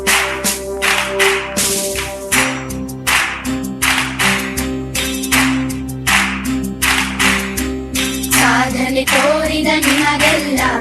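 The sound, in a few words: audience clapping for school team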